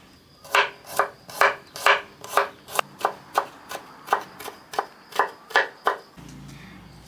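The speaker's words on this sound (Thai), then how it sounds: "กระเทียมของเราวันนี้เราจะไม่โขกเอา เราจะสับเอานะคะ" A knife chops garlic steadily against a cutting board, about sixteen crisp, close strokes in an even rhythm before stopping.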